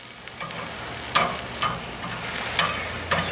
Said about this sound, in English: Hear a nice good little searing sound going on over here.